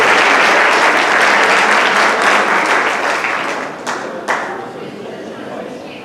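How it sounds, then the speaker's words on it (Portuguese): A seated audience at an academic congress session breaks into loud, dense applause that fills most of the stretch, then thins into scattered claps and fades toward the end. "Uma salva de palmas, por favor."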